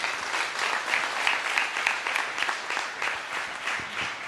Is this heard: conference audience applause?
yes